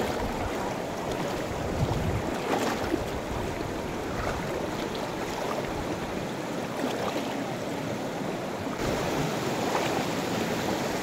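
A strong current on the Panipyason River in Madalag, Aklan, rushes past, a constant full-bodied roar of flowing water with occasional splashy surges, heard close and loud with no voices.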